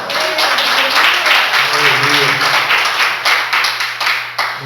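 A church congregation claps and applauds for Jesus in a dense, sustained wash of hand claps that carries on throughout, with voices mixed in.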